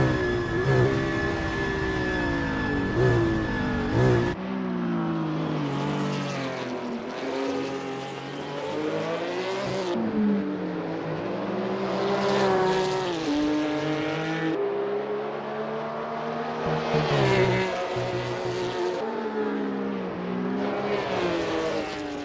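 Sixties-era race car from the 60s Legends series in Assetto Corsa at Thomson Road, engine roaring up and down in pitch through repeated gear changes, loud and near, with a brief burst of other noise at the start.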